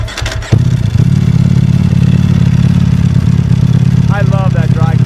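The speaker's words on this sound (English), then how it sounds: "Let's get a startup so they can hear the dry clutch, the stock exhaust" A Ducati Panigale V4 SP motorcycle with a dry clutch and stock exhaust starts up with a loud crank and catch, then settles into a steady, rumbling close-up idle with clutch rattle. Brief voices come in near the end.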